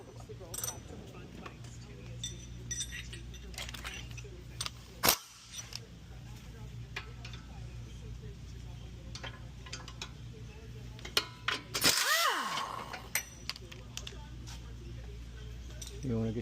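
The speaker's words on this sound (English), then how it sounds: "So let's get a 16 socket, get a 16 wrench." Metal socket and wrench clink and clatter in scattered, sharp bursts while being picked up from a toolbox during axle replacement on a 2024 Nissan Sentra, with quiet shop background and someone talking intermittently.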